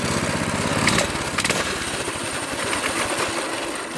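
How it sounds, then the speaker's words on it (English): A CT200U small engine fitted with a replacement carburetor runs with a fast, rattling buzz, close and steady, its chattering putter dipping slightly near the end. "Okay, there she goes."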